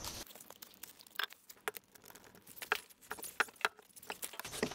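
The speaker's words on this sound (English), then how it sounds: "We'll cut our liquid line as well." A tubing cutter works around the copper liquid line of a ductless mini split during installation, giving close, scattered metallic clicks and crinkly scraping ticks at an uneven rhythm.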